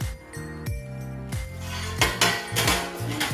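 Metal pans for heating tacos are handled and set down, giving several ringing clanks and clinks with resonant tails, close and fairly loud, with no talking.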